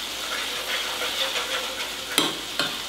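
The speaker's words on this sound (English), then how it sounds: "As it starts to sizzle, go ahead and add a little bit more stock" A thick custardy mixture for Armenian sorrel soup sizzles softly in a pot as stock is stirred in, a faint steady sizzle with scraping strokes and two sharp clacks near the end; no talking.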